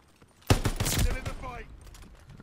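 A BAR rifle in Call of Duty: Vanguard fires a short, loud, close burst of rapid shots that fades into a trailing echo, with a voice faintly present.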